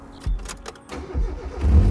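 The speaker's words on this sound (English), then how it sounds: "it starts up and runs just fine" A Mazda Miata bought cheap with a suspect motor cranks over in a few quick bursts, then fires and settles into a rising engine rumble, close and fairly loud.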